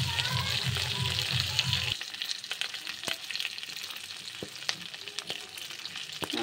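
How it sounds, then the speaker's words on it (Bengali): Onion and ginger fry in a pan, a dense sizzle close by; a low rhythmic hum stops early, leaving the frying with sharp utensil clicks and taps scattered through. "পেঁয়াজ, আদা, সবগুলো ঢেলে দিলাম।"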